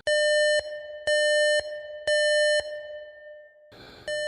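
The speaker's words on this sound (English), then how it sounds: "The silence was suddenly broken by the sharp ring of an alarm emanating from one of the patient rooms down the hallway." An electronic alarm rings in a hospital patient room in three long, steady tonal beeps of even length. A harsher buzzing tone follows, then another beep begins. The sound is loud and close, with no voices.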